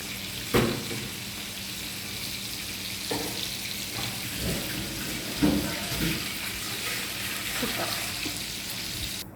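Chicken frying in a pan for biryani gives a steady, close sizzle for about nine seconds, with a few soft clinks and stirring knocks and no clear talk.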